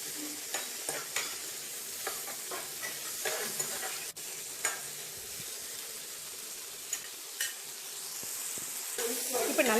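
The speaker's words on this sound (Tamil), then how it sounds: "சிம்மிலே வச்சு வதக்கிக்கோங்க, நல்ல தக்காளி வேகணும்" Tomatoes and cashews sautéing on a low flame for paneer butter masala, with a steady soft sizzle broken by repeated spoon scrapes and stirring clicks throughout, close and moderately quiet.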